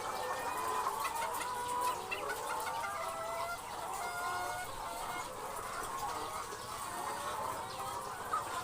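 Laying hens cluck continuously in a coop, with a rooster kept above the hens' cages, making a dense, busy chorus of overlapping calls throughout.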